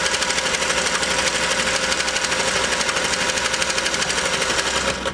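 A freshly oiled Singer sewing machine with a top hat cam stitches continuously, giving a loud, even, rapid mechanical chatter close by for the whole stretch.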